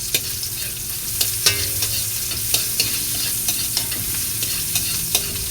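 Onion and ginger sautéing in a pan for batchoy, a steady close sizzle with repeated stirring scrapes and taps of a utensil.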